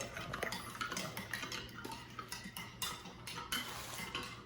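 A spoon stirring hot chocolate in a cup, giving a quick run of light clinks and scrapes against the sides, soft and close, with no speech.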